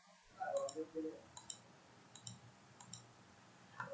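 Light mouse clicks while working in an Excel spreadsheet, a few sharp, quiet ticks spread across a quiet room with no talking.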